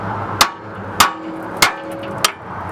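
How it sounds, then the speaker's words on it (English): A hammer strikes a pickle fork four times at even intervals to break a tie rod taper loose on a Chevrolet Workhorse chassis, each blow a sharp, close metallic clang with a short ringing decay. "So what we're going to do is take a pickle fork, we're going to hit it, try to break it loose."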